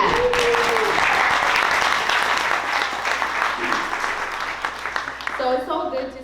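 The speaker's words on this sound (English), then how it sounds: "let's clap for that" A full room claps at the Bikes Not Bombs annual Building Momentum breakfast, a thick sustained wave of applause with scattered voices that tapers off, followed by a speaking voice near the end.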